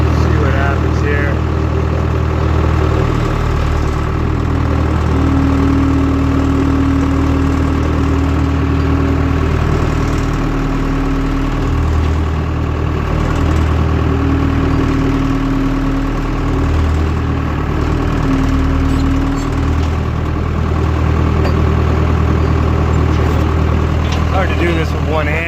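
A skid steer engine idles steadily throughout, a low continuous rumble with a faint tonal whine, with no speech over it.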